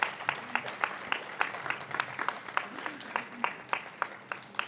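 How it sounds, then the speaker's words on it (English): Audience applause for an award recipient at the Bharatheeyatha 2025 cultural event, a steady patter of many hands clapping together with no talk over it. "Please join me in giving him a round of applause."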